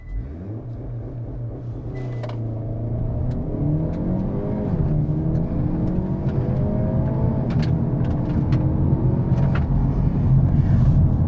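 A 2024 Hyundai Elantra N with traction control off launches hard in a 0-60 run, its engine rising in pitch through the gears with brief dips at each shift, a loud, close, continuous rumble building in intensity throughout.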